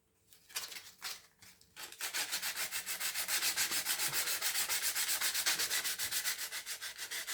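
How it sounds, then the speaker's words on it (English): Sandpaper rubbed over an edge during a hobby model build, a few short scrapes then a steady run of rapid back-and-forth strokes, close and fairly quiet. "And then what you do is also just take a bit of sandpaper."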